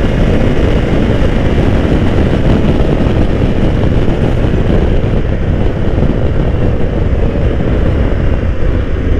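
Loud, constant wind roar buffeting a helmet intercom microphone on a motorcycle ridden at about 120 km/h, a dense, unbroken rush dominating throughout with no talking.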